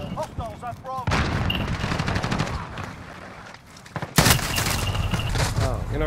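Rapid automatic gunfire in Call of Duty: Modern Warfare, loud bursts of shots with a pause, then a sharp new volley, with someone talking over parts of it.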